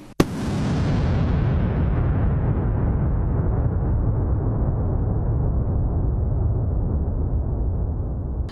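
An explosion at a car park: one sharp, loud blast followed by a long, heavy roar of rumbling debris and noise that slowly dies down, with no voices.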